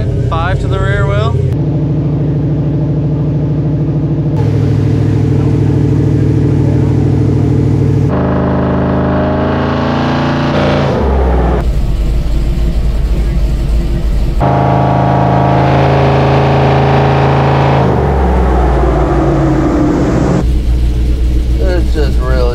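A supercharged rat rod wrecker engine runs on a dyno, droning loudly and climbing through several sustained revving pulls that rise and fall in pitch, with people talking over the roar.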